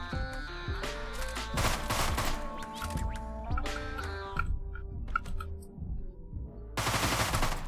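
Rapid gunfire crackles in the video game Deadbolt over a musical backing, dense bursts of shots with sharp crashing impacts that pause briefly before resuming loud near the end.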